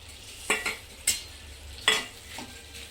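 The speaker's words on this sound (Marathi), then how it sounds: "तर हे जे ठेचा वाटून घेतलेला आहे तर हे घालते मी." Ground thecha chili paste goes into a hot kadhai and gets stirred, with a few short scraping clinks of a spoon against the metal pan over a faint soft sizzle.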